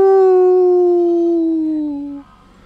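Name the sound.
voice imitating a dog howling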